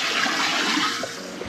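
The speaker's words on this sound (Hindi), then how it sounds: "पानी के बीचों बीच है, और देखिए यहाँ फ्लो देखिए एक बारी" River water at a Lansdowne resort flowing over stones, a loud, continuous rushing wash, close by and steady, with no talking.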